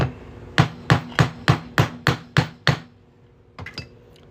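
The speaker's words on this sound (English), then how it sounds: "we're just going to hammer that right on through." A 1/2 inch punch is hammered through a Nebraska quarter: eight sharp metallic hammer strikes land in an even rhythm, close and loud, then two lighter taps after a short pause.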